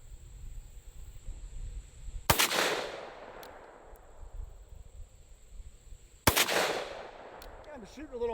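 Two loud, sharp .357 revolver gunshots from a ballistics shooting video, spaced about four seconds apart, each with a fading echo tail over a faint background hum, and a brief voice near the end.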